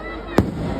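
A single sharp firework bang from a Champahati fireworks display, one brief burst over a steady background hum.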